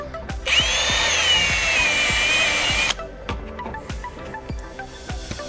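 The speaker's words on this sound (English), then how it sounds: "Get the old trusty step drill out." A step drill bores a hole through metal during a Haltech IC-7 dash install, a steady whining grind for about two and a half seconds, close and loud, then stopping, with clicks and knocks from handling around it.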